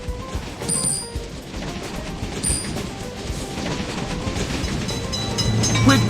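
A train rolls through a railway crossing in a video game, a steady broadband rumble and rattle of wagons that holds loud and grows slightly toward the end, with no voices.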